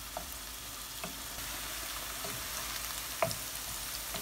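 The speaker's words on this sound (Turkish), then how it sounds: "Pembeleşinceye kadar bu soğanımızı güzelce kavuruyoruz" Chopped onions sauté in oil in a pot for a Turkish tuna stew, giving a soft, steady sizzle with a few faint stirring scrapes, fairly quiet and with no talking.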